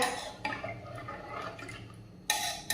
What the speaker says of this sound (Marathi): हे दोन ग्लास मी पाणी टाकून घेत आहे